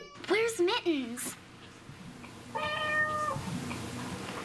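A cat meows several times within a TV advertisement for high-speed internet, with a person talking between the meows.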